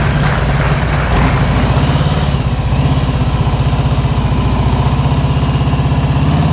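A motorcycle engine runs at low throttle during slow-speed practice riding, a steady, loud, low-pitched putter that stays constant throughout with no voices.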